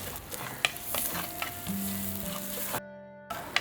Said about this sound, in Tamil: வெங்காயம் இந்த பக்கத்தில் நல்லா வதங்கி வந்ததுக்கப்புறமா நம்ம தக்காளி சேர்த்துக்கலாம்.